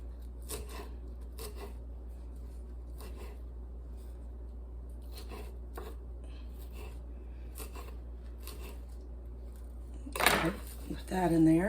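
Knife chopping fresh cilantro for pickled eggs, a string of light, quick cuts spread across the clip, followed near the end by a louder brushing clatter as the herbs are handled.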